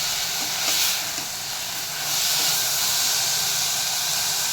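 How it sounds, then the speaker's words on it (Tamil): Onion and tomato sautéing in a pan for a peas potato fry, heard as a loud, steady hissing sizzle that swells a little partway through, close up and with no talking. "இப்போ தக்காளி கொஞ்சம் வதங்கிருச்சு."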